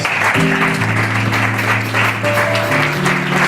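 A church congregation applauds during a French-language service, loud sustained clapping filling the room while organ-like sustained tones play underneath.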